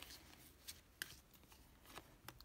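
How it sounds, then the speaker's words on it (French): Ten playing cards are set down one at a time on a table for a tarot-style spread, producing soft, scattered taps and light paper slaps at a quiet, close distance. "On pose les 10 cartes."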